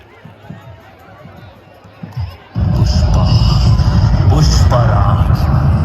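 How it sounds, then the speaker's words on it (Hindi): A crowd at a kushti wrestling bout roars into loud clapping and cheering to welcome a wrestler. Quieter murmuring and a few thumps come first, then the applause surges abruptly and holds dense and loud. "एक बार कटप्पा के नाम पे जोरदार तालियों से स्वागत कीजिए।"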